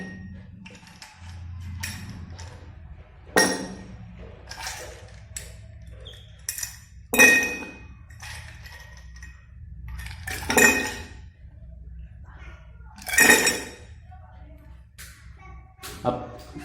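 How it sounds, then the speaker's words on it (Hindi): A few ice cubes dropped one at a time into a dry glass tumbler make a series of sharp, close clinks and rattles, spaced a few seconds apart over a quiet room background. "जैसे बर्फ के कुछ टुकड़े डाल रहा हूं।"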